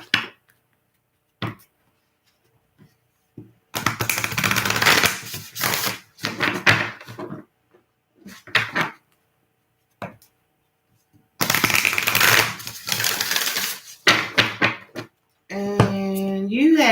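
Isis Oracle cards being shuffled by hand in a tarot-style reading, two bursts of riffling and slapping card noise separated by quiet pauses, with a brief voice near the end.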